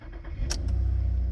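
An all-wheel drive car engine cranks briefly and catches, settling into a steady, close idle that hums loud and alone after the start.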